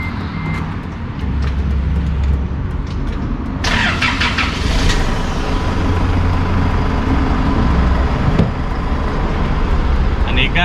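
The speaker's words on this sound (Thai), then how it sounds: "เดี๋ยวผมจะไปติดเครื่องด้านนู้น" A used 2008–09 car, a single-owner dealer model, is started and settles into a steady idle, with continuous low engine rumble close by, some outdoor traffic around and faint voices in the background.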